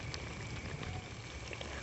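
Tempeh fries in hot oil in an electric pot, giving a steady, dense crackling sizzle with scattered pops, close and even throughout, with no talking.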